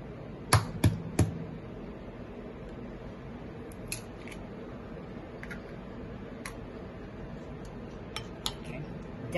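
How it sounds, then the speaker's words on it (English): Two eggs are cracked into a bowl: a quick cluster of sharp knocks on the rim early on, followed by softer scattered ticks and taps in a quiet kitchen. "we have to crack our two eggs in the bowl"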